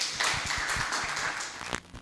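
A congregation applauds during a church service, a dense, sustained patter of clapping with steady low rhythmic thumps underneath that fades out near the end.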